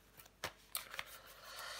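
Tarot cards being flipped and laid down: a few soft, close papery snaps and slides in an uneven rhythm, faint and quiet, with no talking over them.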